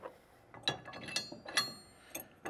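A Gen Y anti-rattle hitch tightener slid into a trailer hitch receiver, giving a few separate metallic clinks and scrapes spread over a couple of seconds, close and fairly quiet.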